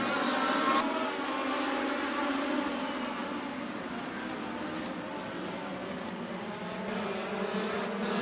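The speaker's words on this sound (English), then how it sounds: "Good start for Eric Bloomer out front" Legend dirt track race cars at Benton County Speedway roar off at the start of a race, a dense, sustained engine drone heard from a distance without letup.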